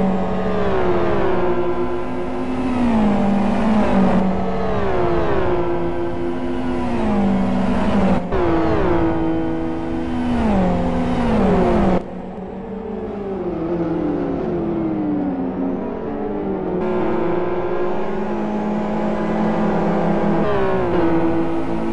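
GT1 race cars battle on a circuit, engines screaming and shifting through repeated rising and falling revs as several cars pass in close succession, loud and continuous.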